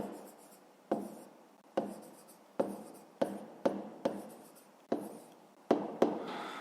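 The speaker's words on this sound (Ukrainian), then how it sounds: "записуємо тоді рівняння" Handwriting of an equation for a fifth-grade maths problem, nine or so crisp pen-tap onsets each followed by scratchy strokes, steady and close, quiet, without speech.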